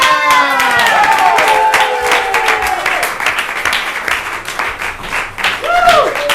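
An audience claps and cheers loudly and continuously, with whoops rising over the dense applause.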